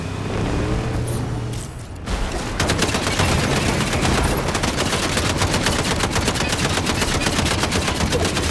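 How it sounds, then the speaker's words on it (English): Rapid automatic gunfire from a Fortnite Zero Build duo match rattles in dense bursts, loud and close, after a brief quieter lead-in, with shots crackling continuously to the end. "They shooting at me already, bro."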